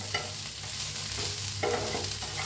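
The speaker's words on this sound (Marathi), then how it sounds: "तसं होतंय ते हलवून घेऊया, तेल घालून भाजून घेऊया" Grated coconut and onion stirred and roasted in oil in a pan, a steady sizzle with repeated scraping strokes of a spoon, close and continuous with no talking.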